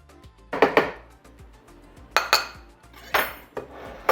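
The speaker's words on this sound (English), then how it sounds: "like to use a knife using the flat edge to spread it out and get my 1 cup of flour" A metal knife clinks and scrapes against a measuring cup while flour is levelled, giving a few sharp, separated clatters with quiet gaps between them.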